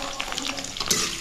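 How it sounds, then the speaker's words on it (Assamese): Chopped onions fry in hot oil in a kerahi wok while being stirred, giving a steady close sizzle with scraping stirs and a brighter burst near the end; no talking. "ইফালে তেল গৰম হৈ গল আৰু আমি পিয়াজটো আগতে মানে ভাজি লম অলপমান"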